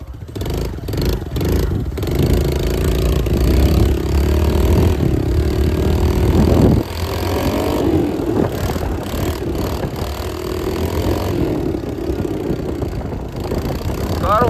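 A 20-year-old motorcycle engine running close by, a rough continuous rumble with uneven revving and a dip midway, mixed with wind and handling noise.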